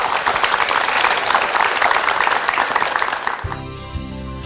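Loud, dense applause from a large audience welcoming a Korea University professor to a televised lecture, sustained for several seconds before fading into a tonal musical sting.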